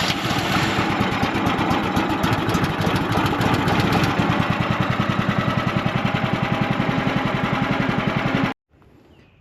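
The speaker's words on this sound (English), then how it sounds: "So let's get this sawmill fired up and make some first few cuts on that log there." A sawmill engine runs before it cuts a shagbark hickory log, a loud, steady mid-pitched drone with a rapid pulsing beat that stops abruptly near the end, leaving quiet behind.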